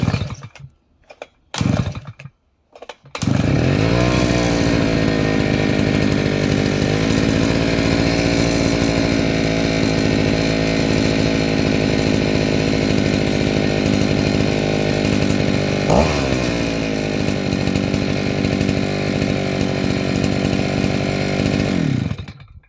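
A CROSSER CR-T1 petrol brush cutter starts after a few short pulls, then its two-stroke engine runs loud and steady at close range, with one brief dip in revs.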